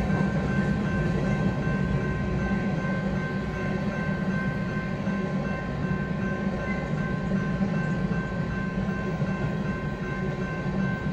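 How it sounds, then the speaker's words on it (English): A BNSF train rolls past steadily on the Staples Subdivision, loud and continuous throughout, with a constant rumble and a sustained tonal hum from the passing cars. "Another train coming!"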